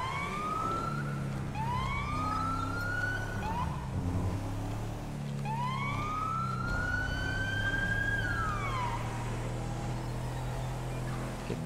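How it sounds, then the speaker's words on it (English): A police car siren from GTA 5 with the LSPDFR police mod wails steadily and loudly, rising and falling in long sweeps over a constant engine drone. "so I'm gonna go lights and sirens where necessary, too"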